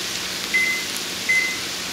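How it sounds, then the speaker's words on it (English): A kitchen timer gives two short, high beeps about three-quarters of a second apart over faint background hiss. "Let me set my timer"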